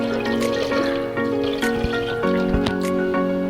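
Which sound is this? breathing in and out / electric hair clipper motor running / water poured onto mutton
water poured onto mutton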